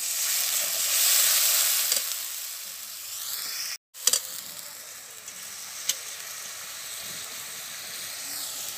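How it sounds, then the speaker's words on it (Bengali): Spice paste for egg curry sautés in a frying pan, giving a loud, steady hissing sizzle with a brief break and a few sharp utensil clicks, and nobody talking. "এবার আমি মশলাটা কষিয়ে নেব"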